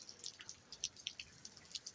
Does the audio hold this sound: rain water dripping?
yes